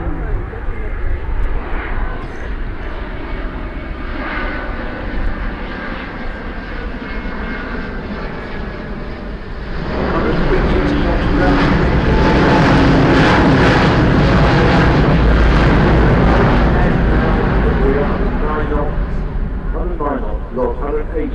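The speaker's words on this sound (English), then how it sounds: "A very slow pass with not a lot of headwind at all. That is a majestic flyby." Airbus A350-1000 powered by Rolls-Royce Trent 1000 engines making a very slow flyby at the Farnborough International Airshow, a loud continuous engine roar that swells sharply about halfway through and stays powerful as the jet passes close by.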